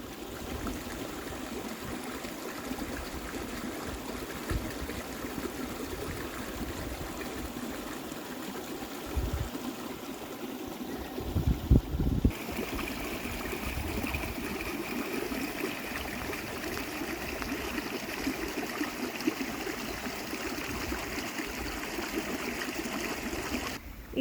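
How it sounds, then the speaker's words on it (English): Water in a brim-full channel pours over a cliff edge on a rural homestead after heavy rain, giving a continuous rushing wash with a brief rumbling disturbance midway. "this channel here, which diverts the water over the cliff, it's just filled to the top"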